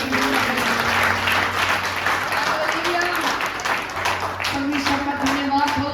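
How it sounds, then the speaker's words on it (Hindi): Loud, sustained clapping from a church congregation praising God during a Hindi sermon, dense and continuous with a faint crowd murmur underneath. "ताली बजाकर खुदा की महिमा करें।"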